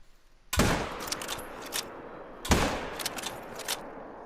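A 7mm hunting rifle in a hunting video game fires two loud, close shots about two seconds apart, each a sharp crack followed by a long rolling echo.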